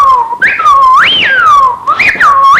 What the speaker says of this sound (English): The old malady, widgeon, the old cock widgeon, he's got a whistle on him.